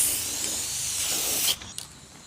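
A steady, hissing aerosol spray runs continuously for about a second and a half, then cuts off, leaving a few faint clicks and rattles.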